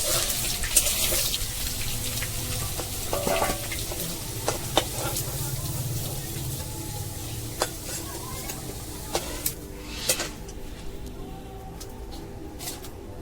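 Potatoes fry in a pan with a continuous close sizzle, spoon scrapes and taps clicking at irregular intervals, and faint birdsong somewhere in the background.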